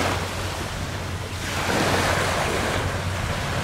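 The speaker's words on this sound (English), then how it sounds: "The ocean." Ocean surf washing in front of a beachfront villa at W Koh Samui Resort, Thailand, a loud continuous roar that swells about halfway through, with wind buffeting the microphone.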